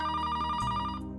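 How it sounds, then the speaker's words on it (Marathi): A telephone rings indoors with a clear, steady electronic bell tone that cuts off after about a second, with no voices over it. "कोणीतरी फोन घ्या."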